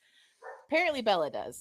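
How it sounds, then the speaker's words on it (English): A dog barks twice in quick succession indoors, fairly close and moderate in volume, overlapping a woman's speech. "I don't know if y'all can hear her barking."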